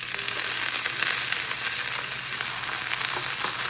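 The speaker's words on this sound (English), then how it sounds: "Let that sizzle here for just a few seconds." Steady, hissing sizzle of vegetables stir-frying in a hot pan with garlic, close and constant, with faint crackles and no voices.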